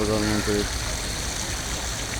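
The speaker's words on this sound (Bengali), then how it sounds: "মালয়েশিয়ার প্রধানমন্ত্রীর বাসভবনের একটা ঝর্ণা" A water fountain at the Malaysian Prime Minister's residence gushes in a steady, broad rush of splashing water, with a voice heard briefly at the start.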